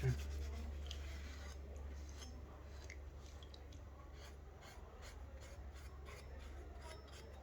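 Steady, close-up rasping scrub as cosmoline is cleaned off the crossguard of a new bayonet, a continuous abrasive rubbing that carries on without pause.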